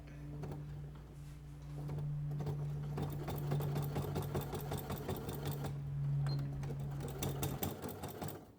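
A sewing machine top-stitches leather for a handbag in bursts, its needle clattering rapidly with a steady motor hum, pausing briefly before stopping near the end.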